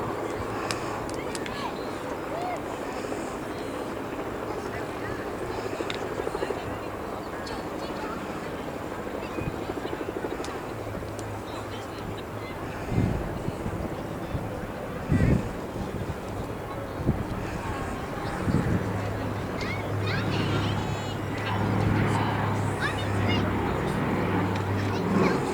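A Consolidated PBY Catalina flying boat makes a left-to-right pass at the RAF Cosford airshow, its piston engine drone rising in the distance under wind buffeting on the microphone and a commentator's voice.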